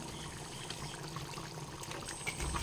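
Mustard oil being poured over a bhola fish curry near the end of cooking, a soft steady liquid trickle and faint sizzle at low level, with no talking.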